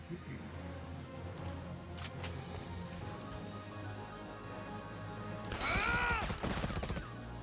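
Video game gunfire in Valkyria Chronicles 4, faint scattered shots and bursts under background noise, building to a louder flurry of fire near the end.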